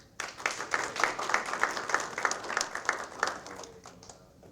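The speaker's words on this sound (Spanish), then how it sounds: "El aplauso." Audience applause at a book launch and poetry reading, a steady burst of many hands clapping that swells, holds for several seconds, then fades out.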